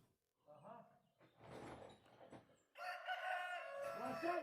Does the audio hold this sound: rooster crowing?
yes